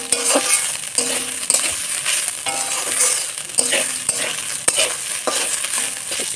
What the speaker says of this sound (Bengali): এই যে থোড় ভাজা